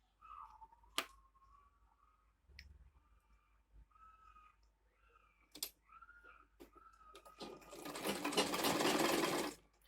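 A sewing machine stitches fabric for a mini bag, starting with faint clicks and short whirs, then settling into a longer, louder continuous run of stitching at the end.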